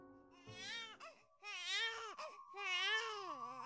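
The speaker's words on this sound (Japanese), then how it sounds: "赤ちゃんの泣き声と子供の遊んでいるような声が聞こえてきたのです" A baby cries at night in close, wailing bursts separated by short breaths, with no other voices.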